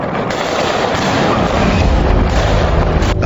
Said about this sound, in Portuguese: vídeos divulgados nas redes sociais mostram fogos dentro da comunidade